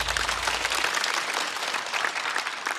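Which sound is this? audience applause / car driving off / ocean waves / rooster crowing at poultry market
audience applause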